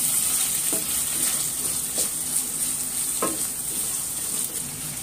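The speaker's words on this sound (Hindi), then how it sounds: "एक मिनट इसे भी भून लेंगे।" Peanuts and greens roasting in a pan for poha, a steady close hiss of frying with a few soft scrapes of stirring, no talk.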